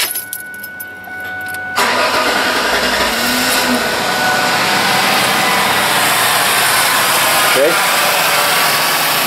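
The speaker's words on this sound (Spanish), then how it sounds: "voy a echar a andar este vehículo para llevar a cabo el test de nueva cuenta" A car engine cranks and catches after a quiet start, then runs loud and steady during an EGR differential pressure sensor test, with its mechanical roar filling the rest of the clip.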